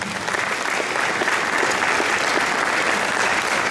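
Dense, steady applause from a crowd at a municipal jubilee ceremony in Pakosław, Poland, as a local resident receives an honorary title, filling the whole stretch with no pause.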